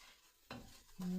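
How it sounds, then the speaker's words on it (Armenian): Fried onion being stirred in a pan with ground red pepper for a bean soup, two quick close scrapes of a spoon over a faint sizzle. "Լցնում եմ մի լավ ճաշի գդալ աղացած կարմիր պղպեղ, խառնում,"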